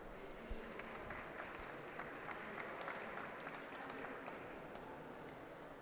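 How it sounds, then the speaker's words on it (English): Audience applause for startup panelists at a sustainability week panel in Abu Dhabi, a steady wash of clapping sustained throughout at moderate, fairly distant level with some crowd noise. "Please give them a warm round of applause"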